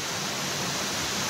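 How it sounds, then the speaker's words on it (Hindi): Steady broadband rushing of a waterfall at Daringbadi in Odisha, a continuous even roar with no breaks and no voices. "वाटरफॉल वाह वेरी नाइस"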